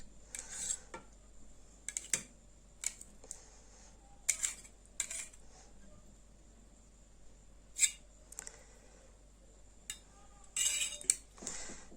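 Sharp metallic clinks of a spoon chopping eggs in a dish, scattered irregularly with quiet gaps between, close and fairly crisp.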